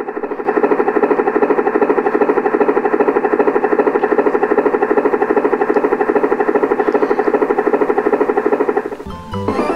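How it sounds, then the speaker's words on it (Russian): A helicopter's rotor thumps in a fast, steady rhythm with a loud engine drone, close and continuous, cutting off near the end. "Правильно, это вертолет."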